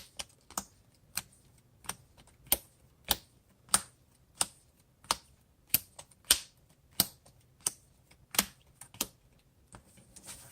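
Trading cards from a dinosaur deck being power shuffled, giving a steady run of sharp, close riffling snaps roughly twice a second with no voices.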